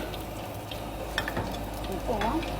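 A spoonful of ghee sizzles in a pan for home cooking, a steady soft crackle with a brief clink and a faint voice partway through.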